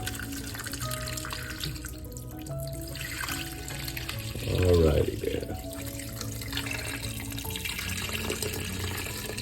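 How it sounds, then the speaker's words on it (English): Tap water runs into a cooking pot for beef shank soup (bulalo) on a stovetop, a steady splashing flow in a kitchen heard under a person talking, swelling briefly at the middle. "Now we add our water."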